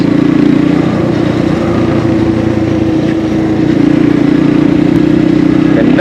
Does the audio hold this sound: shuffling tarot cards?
no